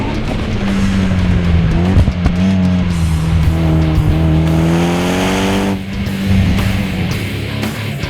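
Tuned 2013 Mitsubishi EVO X driven hard on a canyon road, its engine droning loud and close with rising and falling pitch as it shifts, tires squealing through corners.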